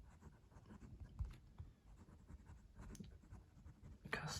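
A Pilot Custom Heritage 92 fountain pen with a 14k gold fine-medium nib writes on paper, giving soft, close scratchy strokes in short irregular bursts with pauses between them.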